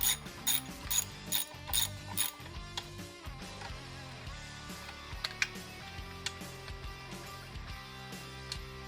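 Ratchet wrench loosening the four bolts that hold a plate on a Jeep engine during a valve cover replacement, with bursts of rapid clicking near and loud at first, then a lighter, intermittent ticking.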